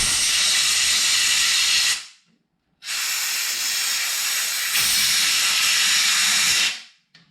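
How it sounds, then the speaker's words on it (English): Compressed air blasts loudly into the seal housing of a Cub Cadet RZT-54 zero turn tractor, a harsh close hiss in two long bursts separated by a short pause, with no voices. "Let's clean it out with some compressed air."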